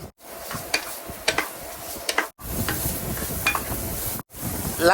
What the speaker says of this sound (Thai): รวนหมูจน สุกเลยนะครับ